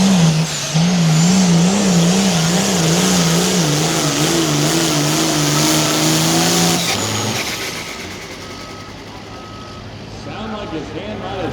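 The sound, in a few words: pulling truck turbocharger unloading at a truck pull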